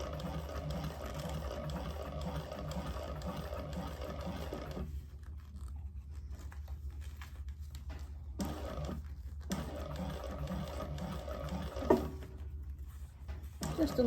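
A sewing machine stitches a seam on a fabric sling with a steady mechanical whir, stopping briefly twice and starting again, with a small click near the end.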